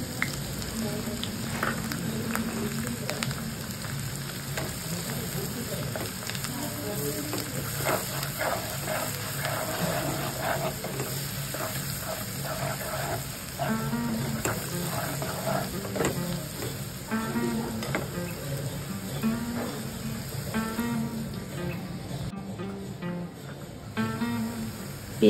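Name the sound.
chopped onion frying in hot oil with tempering spices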